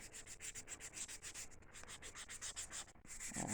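A nail buffer rubs back and forth across a fingernail, giving a faint, quick, rhythmic scratchy swish of steady strokes close up, with no voices.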